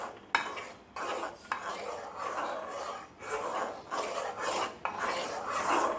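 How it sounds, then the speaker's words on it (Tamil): Raw mango being mixed with jaggery in a pot, rough repeated rasping and scraping strokes of a spoon against the pot, close and uneven, with short pauses between bursts and no talk. "அந்த வெல்லத்தோடு இந்த மாங்காய் வந்துட்டு நல்லா மிக்ஸ் ஆகி வரணும்."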